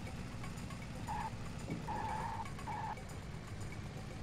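Car driving in a video game, with a steady engine drone throughout and a few short tire squeals from skidding near the middle, heard alone.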